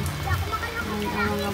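Steady rain falls and patters on surfaces while children play in it outdoors, a continuous wash of drops under voices nearby.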